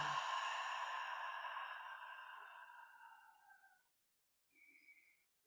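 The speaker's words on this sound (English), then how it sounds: "just as opening your mouth and just letting the exhale" A single long voiced exhale through an open mouth, a soft breathy tone fading over about four seconds, close and alone, followed by a faint brief high whistle-like sound.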